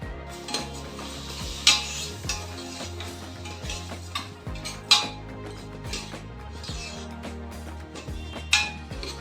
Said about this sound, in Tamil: கழுவி எடுத்து வச்சிருக்க இந்த அரிசியை கொஞ்சம் வதக்கிக்கலாம்